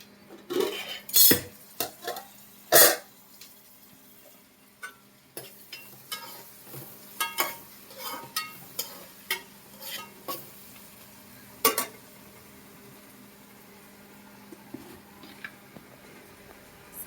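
Onions frying in a home kitchen pan, heard mostly as sharp metal clinks and scrapes of a spoon stirring against the pan, a faint sizzle underneath and no talking.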